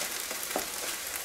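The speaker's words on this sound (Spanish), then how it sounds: "En lo que se va friendo esto," Steady, soft sizzling of tomato sauce for shrimp frying in a pan, a continuous hiss with faint crackles and no voices.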